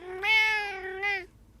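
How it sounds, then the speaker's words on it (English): A domestic cat gives two drawn-out meows back to back, close and clear, the first longer and the second a shorter tail, then quiet. "I got a meow."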